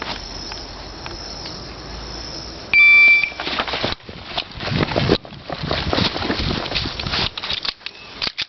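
A single sharp electronic shot timer beep at the start of an IPSC shooting stage, loud and brief, amid an outdoor range with insect chirping, followed by a rapid string of pistol shots.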